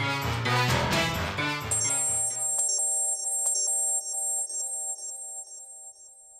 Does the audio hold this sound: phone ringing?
yes